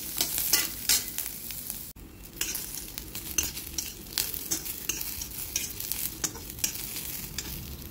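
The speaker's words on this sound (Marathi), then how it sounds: "तेलामध्ये याला छान लालसर भाजून घ्यायचं आहे" Garlic, ginger and onion fry in oil, a continuous close sizzle broken by repeated stirring scrapes of a spoon against the pan, with no talking.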